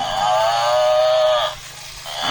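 A cow moos in a long, loud, sustained call that fades after about a second and a half, with a shorter low call rising near the end, close by in an outdoor farm setting.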